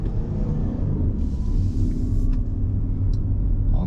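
Steady low road rumble and tire noise inside a Mitsubishi Outlander PHEV Exceed driving around town, quiet and smooth, with no speech.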